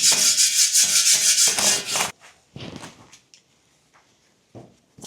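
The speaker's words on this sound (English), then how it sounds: "the first thing I need to do is just clear any loose rust off with a wire brush" A wire brush scrubs loose rust off metal at a Victorian wash house, a loud, rasping back-and-forth rubbing for about two seconds, then a few shorter, fainter scrapes and knocks with quiet gaps.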